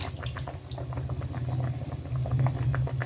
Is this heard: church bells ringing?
no